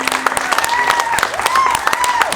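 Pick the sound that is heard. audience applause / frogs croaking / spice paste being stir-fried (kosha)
audience applause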